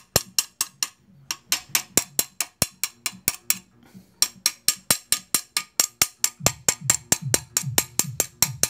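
A chisel chipping weld slag off a metal part of a homemade motorcycle, a long run of sharp metallic strikes at a fast, steady pace, close and crisp, with short gaps between bursts.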